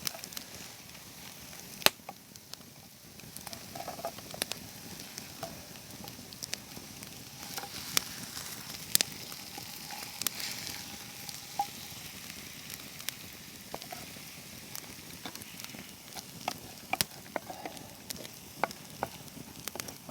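Eggs frying in a pan, a faint continuous sizzle scattered with small crackles and sharp pops and taps at irregular intervals, no talking.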